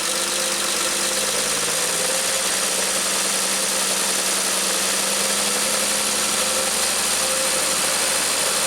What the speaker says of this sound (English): So I'm going to rev it up slowly.